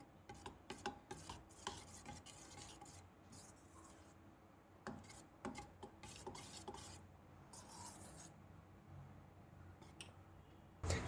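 Banana fry batter is stirred in a bowl, a soft, close scraping and rasping with quick clicks of the utensil against the sides, repeating in irregular strokes and fading briefly before resuming.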